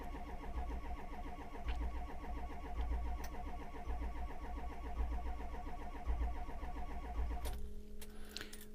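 A 2004 Ford F-250 with a 6.0 diesel engine cranks steadily without catching, the starter's rhythmic churning loud and continuous for about seven seconds before cutting off into quieter hum and clicks.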